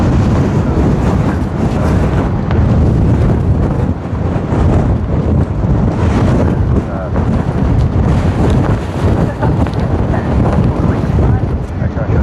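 Strong wind blows steadily at Sydney Airport, buffeting the microphone with a loud, unbroken roar for the whole stretch and no clear pauses.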